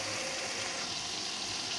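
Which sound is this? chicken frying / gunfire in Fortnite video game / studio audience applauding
chicken frying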